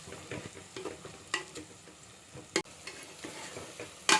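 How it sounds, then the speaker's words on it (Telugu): Sliced onions fry in a pan for mutton biryani, a quiet continuous sizzle broken by scraping stirs of a spoon, with no talk over it. "కొద్దిగా వేసుకొని కలుపుకుంటే ఆనియన్స్ ఎర్రగడ్డలు భిన్నీగా వేగుతాయి, ఎర్రగా వస్తాయి అన్నమాట"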